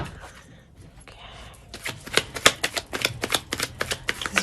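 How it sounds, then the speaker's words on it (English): A deck of tarot cards is shuffled close up, starting with soft handling and then breaking into a rapid series of crisp riffling flicks and taps. "I like a nice clean shuffle."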